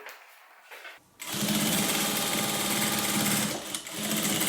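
A sewing machine runs steadily, stitching a quarter-inch seam through fabric pieces for a hippie van project. It starts after a short quiet pause and then keeps up a loud, continuous mechanical whir, close by, with one brief dip near the end.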